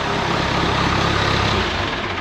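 A John Deere military dozer engine, recently damaged by a foreign object, runs at idle with a loud, steady low rumble close by, no voices over it.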